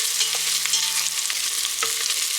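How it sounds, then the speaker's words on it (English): Ginger sizzles and crackles in a hot pan for Filipino chicken tinola soup, a steady frying hiss with occasional stirring scrapes. "So the ginger is frying up nicely."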